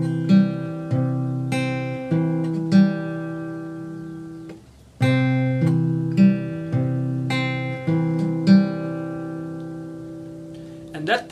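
Acoustic guitar fingerpicking the repeating intro pattern of a song, ringing plucked notes in a steady rolling rhythm, played twice through with a short gap between passes.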